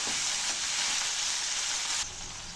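Mint leaves sauté in a hot pan for a mint, coriander and curry leaf thogayal, giving a steady close sizzle that drops slightly in level near the end.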